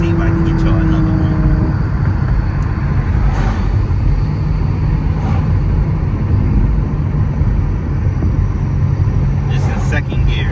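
Car fitted with a Flowmaster 40 exhaust roaring loudly and continuously under hard acceleration, a dense, rumbling engine and exhaust drone with someone talking over it.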